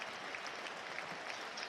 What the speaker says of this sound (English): Good round of applause.